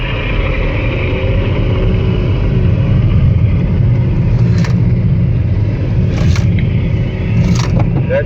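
A BMW accelerates on a driving clinic course, its engine a loud continuous rumble heard from inside the car, with road noise beneath and a few brief knocks near the end.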